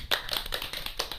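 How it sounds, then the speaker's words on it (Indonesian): A few podcast guests clapping briefly, a short run of light, close, somewhat uneven claps lasting about a second. "Tepuk tangan dulu dong mbak-mbaknya."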